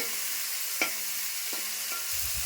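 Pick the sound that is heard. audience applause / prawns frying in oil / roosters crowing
prawns frying in oil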